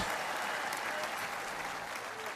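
A crowd at a Knicks championship celebration at City Hall applauds the medical staff, giving a dense, even wash of clapping that stays steady and fairly distant throughout.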